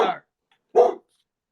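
A dog gives two sharp, close barks a little over half a second apart, each followed by silence.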